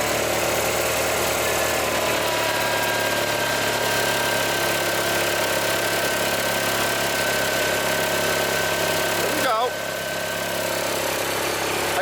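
A 20hp Kohler Magnum engine on a 1980s Simplicity Sunstar garden tractor runs steadily at idle with a constant close-up drone and slight knocking vibration, and a brief shift in tone near the end.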